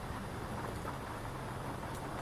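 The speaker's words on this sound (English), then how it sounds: "It's raining right now, actually." Rain falls steadily outside a Class C motorhome, a constant close hiss of drops with a low rumbling undertone and no voices.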